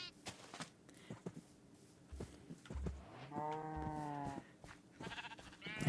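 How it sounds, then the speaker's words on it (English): A sheep bleats in the Minecraft video game, a clear wavering baa in the middle, with scattered clicks and soft game noises around it. "sheep."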